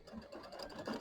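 An embroidery machine stitches a tack-down line along a quilt border, a steady close mechanical whir with fast rhythmic needle pulses running continuously throughout.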